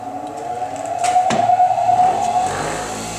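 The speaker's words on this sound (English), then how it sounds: "we'll show you what that looks like here with the grinding wheel" A grinding wheel working on the pin of a VEPR AK thread protector, giving a steady high whine with a harsher burst of grinding midway; close and moderately loud, with no talking.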